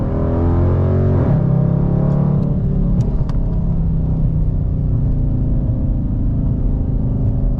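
A Dodge Charger R/T pulls hard in second gear from 4,000 rpm, its loud engine rising steadily in pitch with a deep, continuous rumble and a brief shift in tone early on, heard up close from inside the car.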